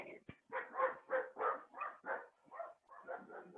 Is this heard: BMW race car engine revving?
no